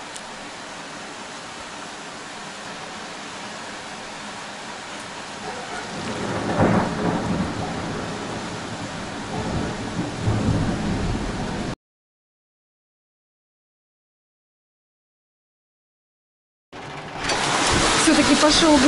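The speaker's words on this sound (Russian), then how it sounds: "Все-таки пошел град." Hail and a thunderstorm: a steady, loud roar of falling ice and rain with a rumbling swell midway, cutting out to silence for several seconds before returning just as heavy.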